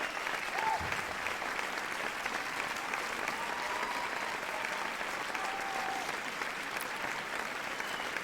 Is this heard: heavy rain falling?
no